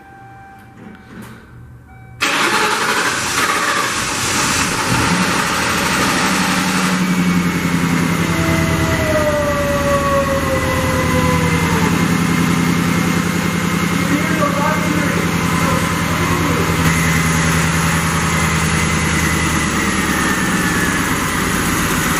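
A 1993 Lincoln Mark VIII engine cranks briefly, then catches and settles into a loud, steady idle with a low rumble and whining tones, while voices talk over it.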